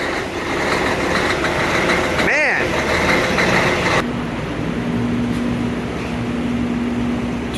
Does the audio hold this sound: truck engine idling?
yes